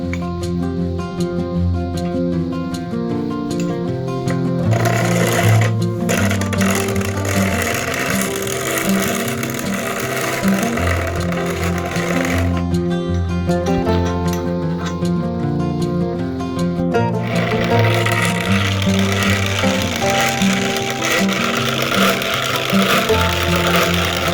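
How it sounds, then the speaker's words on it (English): A small hand-fed grinder milling hot-leached acorns into flour, with a steady, loud mechanical rumble and rattling that runs continuously throughout, varying slightly in texture but never stopping. "So we're pretty happy with this little grinder."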